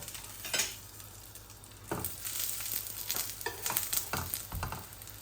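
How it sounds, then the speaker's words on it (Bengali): Egg-coated eggplant chops fry in a pan over medium heat while being stirred. A steady, moderate sizzle is broken by several sharp scraping stirs, close up, with no voices. "আমি মিডিয়াম আঁচের মধ্যে রাখছি দেখুন, আর এগুলো নাড়াচাড়া করে করে নামিয়ে ফেলবো।"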